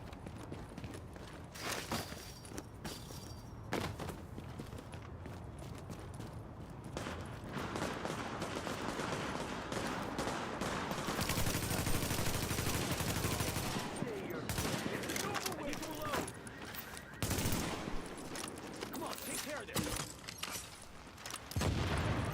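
Heavy gunfire in The Division video game as enemies shoot at supplies: scattered shots and rapid volleys come and go, building into a dense sustained barrage midway before breaking into separate cracks again.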